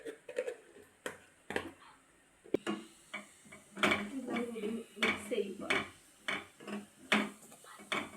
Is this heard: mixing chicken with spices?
yes